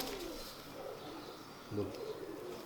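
Red eye pigeons coo faintly in a low murmur under steady room noise, with one slightly louder coo near the end, and a voice is faintly present.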